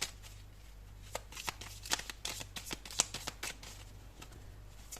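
Tarot cards are shuffled by hand in a rapid run of dry riffling flicks with a few sharper snaps, close and fairly quiet against a steady low hum.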